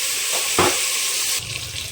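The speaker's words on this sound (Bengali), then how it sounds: "ধুয়ে রাখা আলুগুলো তেলের মধ্যে দিয়ে দিই। ভালো করে এটা ভেজে নেব।" Washed potatoes frying in hot oil for an egg and potato curry, a loud, steady sizzle with a brief stirring scrape in the middle, close up and without talk.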